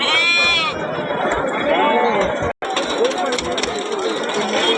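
Young goat kids around six to seven months old bleat repeatedly at a busy weekly livestock market in Banswada, Kamareddy district, with crowd chatter and voices in the background throughout.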